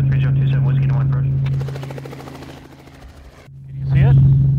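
A helicopter hums with a strong steady rotor drone and blade chop that dips as it moves off, then swells back close and loud, with people talking over it at times.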